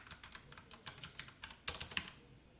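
Light, uneven computer keyboard typing, close and fairly quiet, with a small burst of quicker keystrokes near the end and no voices over it.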